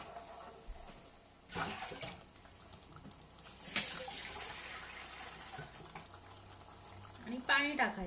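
Water pours into a pan of curry made with dried shrimp in a home kitchen, a close splashing rush with a few louder bursts and someone speaking throughout.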